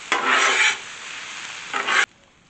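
Onions cook on a Blackstone griddle, with two loud bursts of spatula scraping and stirring over a soft, continuous sizzle. The sound cuts off abruptly near the end.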